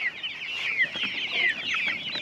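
A flock of farm chickens clucks and chatters continuously, close and busy, with overlapping calls throughout and no talk.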